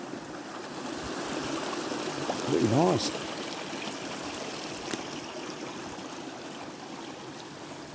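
A small stream of fresh water running down from a field trickles and babbles steadily outdoors, with a brief voice speaking over it.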